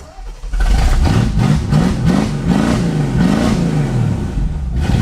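A barn-find Continental V8, revived after 35 years, revs hard in a series of rising and falling surges after a brief quieter start, loud and close with a gruff exhaust throughout.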